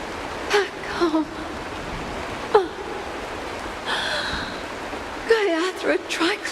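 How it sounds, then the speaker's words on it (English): Steady rain hiss in the video game Honkai Star Rail runs throughout at moderate level, with character voices speaking intermittently over it. "This is the sound of rain."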